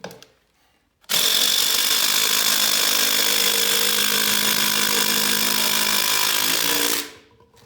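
DeWalt 20 volt brushless impact driver driving a lag screw, starting abruptly after a quiet second into a loud, sustained rapid hammering whine for about six seconds, then stopping, close to the microphone with no voices.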